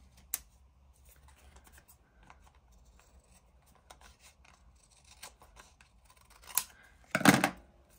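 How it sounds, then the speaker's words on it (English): Scissors snip through a paper ephemera strip: a sharp early cut, faint rustling of paper, then a few crisp close cuts near the end, with no voice. "Let's cut this out."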